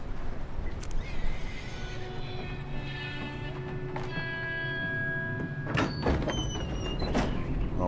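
Horses neigh and whinny in the video game Red Dead Redemption 2, several long whinnies with hoof clip-clops and a door sliding, fairly near over steady background ambience.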